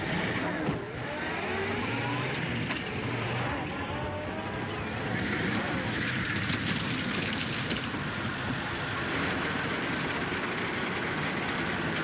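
An Earthworm tractor engine runs steadily while driving, a low rumbling drone with a broadband rushing wash, continuous and fairly loud, with no talk.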